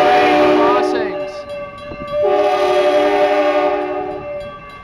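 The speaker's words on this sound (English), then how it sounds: "is required to blow its horn a minimum of 4 times at each of 10 train crossings" Train horn at a crossing in Eugene, Oregon: two loud, sustained chord blasts close by, separated by a short gap, with rolling rail noise beneath.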